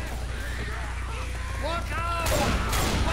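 Gunfire and chaotic action play out in co-op Left 4 Dead Crash Course, a steady rumble of shooting and effects with louder bursts near the end while players talk over it.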